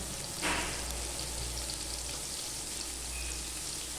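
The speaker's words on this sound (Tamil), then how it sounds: "பக்கத்தில் என்ன சவுண்டு என்னதுன்னு பார்க்குறீங்க பக்கத்தில் மீன் பொறிச்சிட்டு இருக்கேன்" Fish frying in a pan gives a steady, close sizzle with fine crackling throughout, a brief louder spit near the start, no voices.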